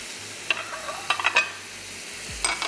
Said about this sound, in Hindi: इतनी देर तक भूनेंगे ये तमाम पानी ड्राई हो जाए, मिर्च और मसाला बहुत अच्छे से भुन जाए।